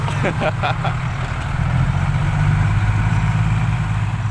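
A motorcycle engine with an aftermarket exhaust idles with a low, steady rumble, then the revs rise and hold in a louder, throatier drone; faint talk sits underneath.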